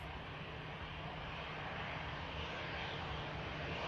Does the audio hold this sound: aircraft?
yes